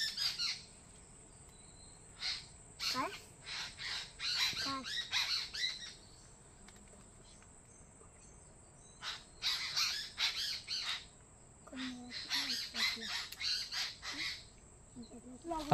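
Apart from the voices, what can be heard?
birds calling, crows cawing outdoors in a Konkan village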